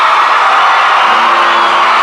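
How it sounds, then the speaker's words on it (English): A youth camp crowd at a morning panel session claps loudly and cheers, with whoops and shouts riding over a steady, dense wall of applause. "Let's give him a round of applause."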